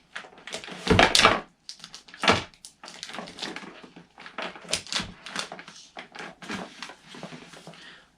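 A blade slices an X into the plastic bag of a Back To The Roots organic mushroom grow kit, with close crinkling, tearing and cutting noises in irregular bursts and rustles of the bag between them.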